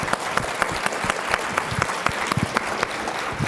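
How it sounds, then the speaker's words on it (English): Applause from a lecture audience after a nutrition talk on the opioid crisis, a steady patter of many hands clapping fairly close, filling the whole moment without voices. "Another round of applause,"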